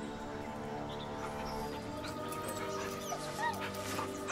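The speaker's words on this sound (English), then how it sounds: "The dog whimpers nervously, as if to urge you on." Dog whimpering nervously in the video game Baldur's Gate 3, soft high whines and yips rising over a steady low game ambience, fairly faint with no voices.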